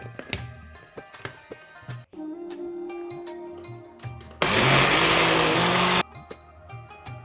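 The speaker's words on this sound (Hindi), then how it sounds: "सब चीज़ों को मैंने ब्लेंडर में डाल दिया है।" Kitchen clatter, then a blender whirs loudly and steadily for about a second and a half blending sesame, olive oil and lemon juice sauce before cutting off.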